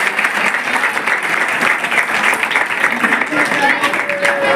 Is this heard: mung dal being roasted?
no